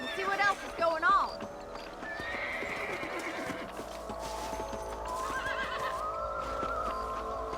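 Horses in the Western video game Red Dead Redemption whinny loudly at the start, then hooves clip-clop in a steady rhythmic gallop under ambient game sound, with another neigh later on.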